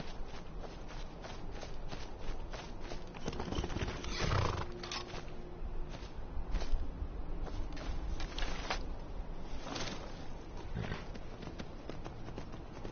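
A horse in the Skyrim video game walking with steady clip-clop hoofbeats on the ground, plus a short neigh partway through, fairly faint and close with no talk.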